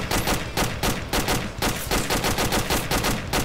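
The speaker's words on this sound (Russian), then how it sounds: "Это я стреляю, тут враг" Rapid repeated gunfire in the military game Arma, a fast rhythmic string of close, loud shots in quick bursts with no talk.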